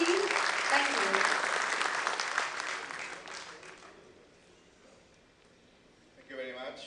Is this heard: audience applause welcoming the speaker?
yes